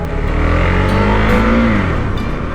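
A Husqvarna Svartpilen 401 motorcycle pulls hard, its engine note rising in a loud close rev for about two seconds before easing off, heard alone without talk.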